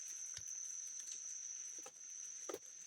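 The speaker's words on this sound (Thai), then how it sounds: "ฝนตกอันนี้" Light, steady drizzle falls around a rural orchard, a faint soft patter with a few scattered sharper drops over a constant high insect whine, no voices.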